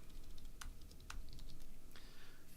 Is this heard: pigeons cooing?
no